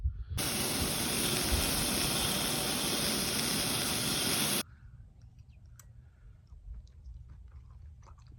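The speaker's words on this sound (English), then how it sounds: "It's just easier to use the stove." A camping stove burning outdoors on a desert motorcycle camping trip, roaring as a loud steady hiss for about four seconds before cutting off, leaving faint clicks and quiet ambience.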